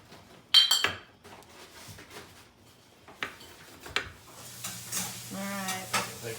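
Mushrooms and Gouda are chopped in a home kitchen during a family cooking contest, with a few sharp knife strikes on a board at irregular intervals amid clattering pans and a sizzling pan in the background.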